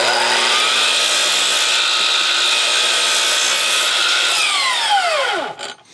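A power saw runs steadily trimming a wood deck block, a sustained whining cut that holds level for several seconds, then winds down as the blade slows and stops.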